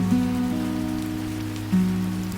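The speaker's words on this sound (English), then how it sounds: "Rain outside forms a silver fall." Steady rain falls outside a cafe in Ayutthaya, a soft continuous hiss and patter, with gentle sustained musical tones over it.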